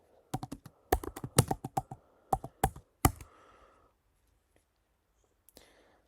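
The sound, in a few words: typing a terminal command on a computer keyboard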